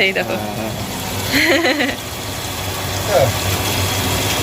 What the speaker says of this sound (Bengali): ফাইনালি 3 দিন পর আজকে এই যে মোটর দিয়ে জল বেরোচ্ছে